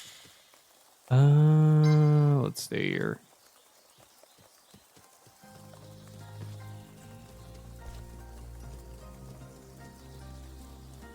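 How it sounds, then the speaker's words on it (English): Rain falling in the video game Shenmue III, a soft steady patter that follows a short spoken line and continues under quiet in-game music. "Is it raining? Sounds like it's raining."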